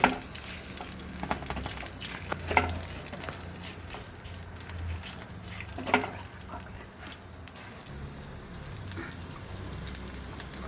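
Dried red chillies crackle and sizzle in hot oil with mustard seeds, urad dal and cumin for a tempering for ivy gourd chutney, a steady close frying hiss with a few sharper pops and faint clinks.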